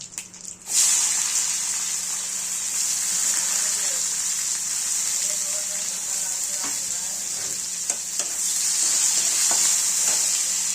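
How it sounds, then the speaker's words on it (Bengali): Chopped onion and curry leaves fry steadily in hot oil for dhaba-style egg bhurji, a loud continuous sizzle with occasional stirring clicks and scrapes, close up with no talking. "আমরা পেঁয়াজটাকে হালকা লাল করে ভেজে নেব"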